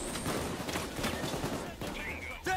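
Rapid bursts of gunfire in the video game Payday 2 during a Four Stores heist mission, crackling shots mixed under someone talking.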